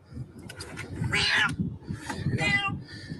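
A cat meows a couple of times amid flooding in a city during heavy rain, the cries fairly close and rising over a steady, noisy background of rushing water and commotion.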